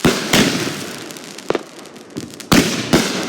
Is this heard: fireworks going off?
yes